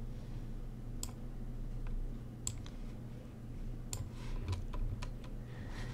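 A computer mouse gives a handful of sharp, quiet clicks at irregular moments over a low background hum, with no talking.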